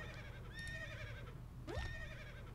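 A horse neighing in a video game: two fairly faint whinnies, one early and one near the end, over a low rumbling background.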